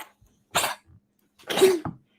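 A pet dog, a heavy female, gives two rough, harsh coughing bursts about a second apart, close and fairly loud, the second followed by a short hacking catch.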